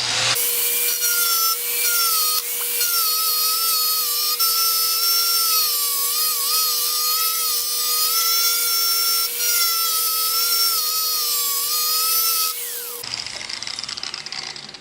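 A flap wheel grinding a workpiece gives a loud, steady high-pitched whine with a rough abrasive edge. It runs continuously and close for about thirteen seconds, then cuts off into quieter handling noise, and no one speaks.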